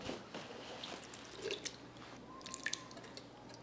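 Liquid draining from an opened can of petite diced tomatoes, heard as a quiet, irregular patter of drips and small splashes close by, with brief pauses between them.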